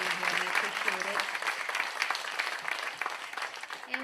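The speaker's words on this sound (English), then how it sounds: "I'd like for everybody to give the panel a round of applause" Steady applause from an audience fills the room, dense clapping sustained throughout with a voice briefly audible at the start.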